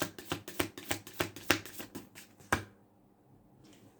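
Tarot cards are shuffled by hand in a quick run of about a dozen crisp riffling slaps, close and dry, ending abruptly and leaving near silence.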